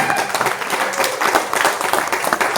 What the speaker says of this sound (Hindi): बस ताली डायमंड ही बजाएगा